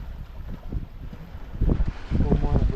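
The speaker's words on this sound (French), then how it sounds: "le vent s'est un petit peu levé" Wind blusters over a sailboat at sea, traveling from Kourou to Trinidad, with steady low rumbling gusts buffeting the microphone; someone talks over the noise.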